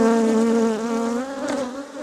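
Angry permaculture honeybees swarming right around a microphone, a loud, close, continuous buzzing drone whose pitch wavers as the insects circle nearby.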